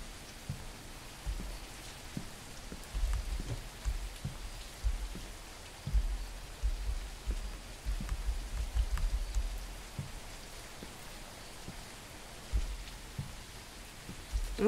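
Steady rain falls in the video game MEAT, a constant patter with scattered louder drops and low thumps, continuous throughout.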